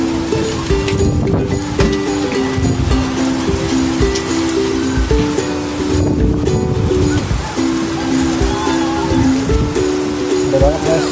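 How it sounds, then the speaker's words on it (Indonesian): Strong wind and heavy rain during a storm in Saudi Arabia roar and rush steadily throughout, loud and close, with a person talking over the storm noise. "Hujan angin ini kencang banget guys."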